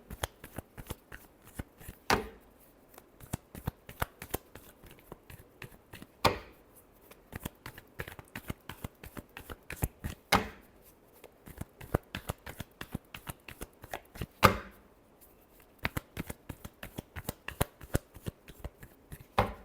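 Tarot cards are shuffled by hand in close, crisp bursts of rapid riffling clicks, with a sharper slap roughly every four seconds as the deck is squared, repeating steadily throughout at a soft level.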